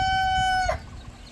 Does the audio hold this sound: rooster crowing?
yes